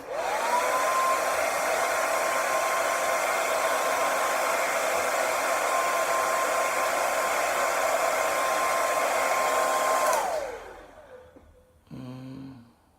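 A hair dryer on its cold setting blows in a steady, loud, close whoosh for about ten seconds, then switches off and winds down, leaving faint handling noises.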